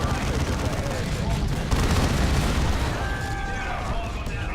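Artillery barrage from the strategy game Dawn of War II, a dense continuous rumble of booms and blasts with battlefield noise throughout, loud and steady, with a faint game voice near the end.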